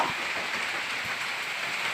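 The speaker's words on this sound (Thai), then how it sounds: "ตอนนี้ฝนก็ตกหนัก" Heavy rain falls steadily for the whole stretch, making a dense, even hiss of drops with no voices over it.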